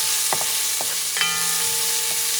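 Chopped yellow onion sizzles steadily in a hot pan, with a few soft stirring scrapes and clicks breaking through the constant frying hiss.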